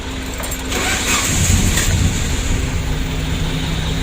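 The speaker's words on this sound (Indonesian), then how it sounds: "Alhamdulillah untuk mesinnya sudah hidup" A Suzuki Carry 1.5 fuel-injected engine with a running fault catches and starts, then settles into a steady, continuous rumble close by with no talking.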